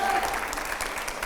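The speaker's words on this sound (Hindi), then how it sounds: "जोरदार तालियां हो यहां पर।" A studio audience at a televised political interview show gives a brief burst of loud, dense applause, with a voice faintly audible beneath the clapping.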